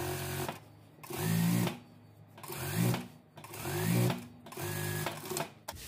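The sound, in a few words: sewing machine stitching a dress seam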